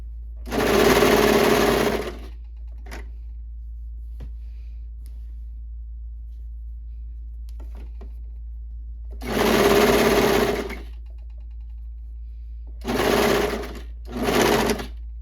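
A sewing machine whirs in three close bursts of rapid stitching, separated by pauses with a low steady hum and a few small clicks.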